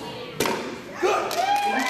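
At a 2016 Bikers Against Bullying event, a board is struck and breaks with one sharp, close thud, followed by a second, softer impact as voices talk over the moment.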